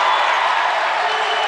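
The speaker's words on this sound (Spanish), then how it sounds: "lo aplauden cuando erra" A crowd at an Argentine club basketball game applauds after a missed free throw, steady broad clapping filling the gym loudly and evenly for the whole moment.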